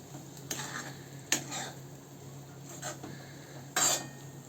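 A spoon stirs besan flour into a sautéed mixture in a pan for besan bhurji, giving soft scraping under a few sharp metallic clinks spread out over a quiet background.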